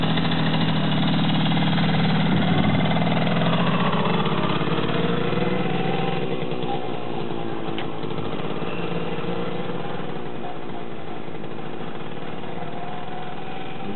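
A Romet Pony moped engine drones steadily while being ridden, the revs rising and easing through a bend, a continuous buzzing hum with no talk.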